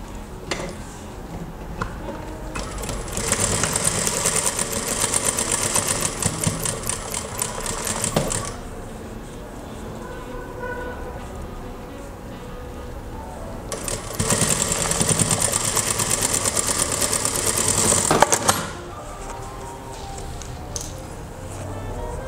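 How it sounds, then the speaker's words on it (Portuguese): A sewing machine stitching a patchwork block, running in two long steady whirring bursts of rapid needle clatter separated by a quieter pause with faint handling sounds. "E vou passar o meu pé de máquina nesse sentido"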